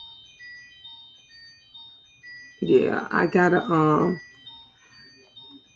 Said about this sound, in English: I hear my phone.